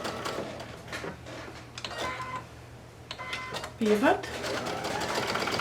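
A sewing machine stitches a scrappy fabric coaster seam in short close bursts of rapid whirring, pausing between runs while a person speaks briefly.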